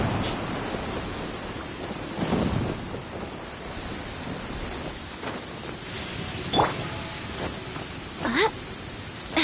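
Rain falls steadily in a stormy Inazuma scene in Genshin Impact, while several rumbles and cracks of thunder break through, a low roll near the start and sharper strikes later, with no talking.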